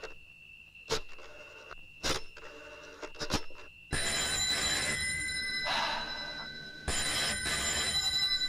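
An old-style telephone bell rings in repeated short bursts with gaps between them, then carries on over a louder, dense background of music or noise that fills the second half.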